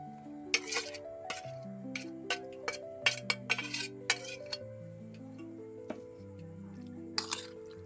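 Prawns being mixed with ground spice paste in a bowl: wet squishing and soft dripping squelches with occasional light clinks against the bowl, irregular and close, over a faint tonal background.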